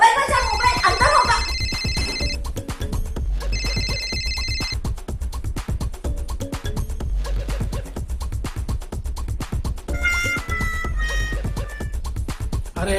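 A mobile phone rings in bursts of a bright electronic ringtone, pausing between rings, loud and close over steady background music.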